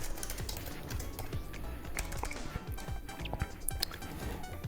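Computer keyboard typing during a digital painting session, a steady run of quick, close key clicks with uneven rhythm and no talk over it.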